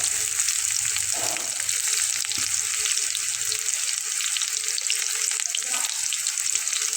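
Whole cumin seeds and onions fry in hot oil, a loud continuous close sizzle with occasional stirring clatter, steady throughout with no talking.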